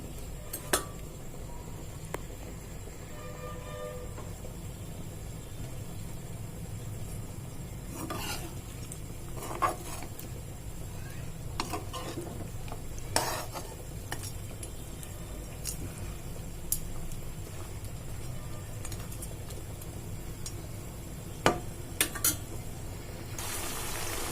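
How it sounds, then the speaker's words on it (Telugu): Chicken pieces fry in half a kilo of sunflower oil for a spicy chicken pickle, a steady low sizzle running throughout with occasional sharp scrapes and clinks of a spoon stirring against the pan. "మధ్య మధ్యలో కలుపుకుంటూ వేయించుకోవాలండి"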